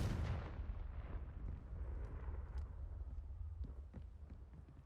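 A Confringo blasting spell explodes in Hogwarts Legacy, hitting with a loud, close boom at the start that rolls off into a long, rumbling decay.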